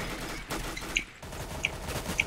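Gunfire in the video game CS:GO comes in a few sharp, spaced cracks over a busy game soundscape, with no talk.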